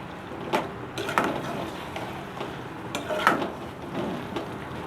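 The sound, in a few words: stirring and frying pumpkin chana dal in a pot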